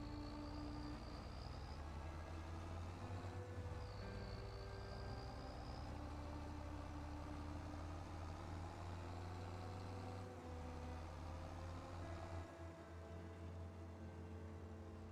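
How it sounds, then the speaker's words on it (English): Tractor engine idling in Farming Simulator 25, a steady, loud low rumble with a deep grunty drone and faint higher tones layered on top, continuous throughout with no talk. "The engines do have a really nice grunty sound on this, I'm not gonna lie. Proper tractor sounds, mate."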